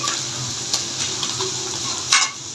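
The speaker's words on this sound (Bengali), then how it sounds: "এই যে পাঁপড় ভাজা শেষ" Papad sizzles in hot oil with a continuous crackling hiss, and brief sharper pops and clinks cut through, the loudest near the end.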